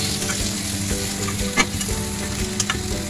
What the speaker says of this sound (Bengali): সব মশলা একসাথে ভালো করে ভেজে নেব।